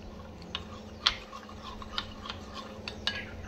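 Spoon stirring a thickened milk mixture for orange milk pudding, soft intermittent clinks and scrapes against the pan, quiet and close with no talking.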